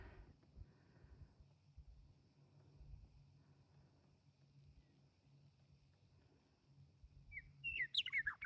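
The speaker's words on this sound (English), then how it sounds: "There's a meadowlark." A meadowlark sings out along a rural gravel road, a few bright, quick chirps arriving only at the very end after a stretch of low, steady rumbling outdoors.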